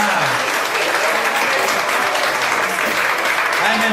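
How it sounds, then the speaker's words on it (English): A crowd at a country opry show gives the band a steady round of applause, dense and continuous throughout with a few faint voices underneath. "Let's give the boys in the band a nice round of applause"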